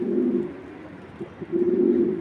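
Racing pigeons, Belgian and Dutch lines, coo close by in a steady low rolling burble, pausing briefly in the middle before resuming louder.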